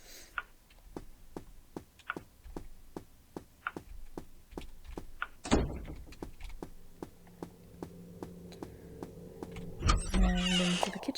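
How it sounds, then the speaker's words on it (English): A door on the far side of a room in a horror game opens with a rising creak midway and a heavier groaning swing near the end, while a clock ticks steadily throughout. "The door on the other side opened."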